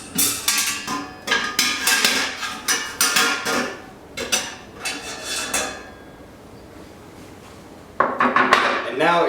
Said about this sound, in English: first we want to lift the malt pipe out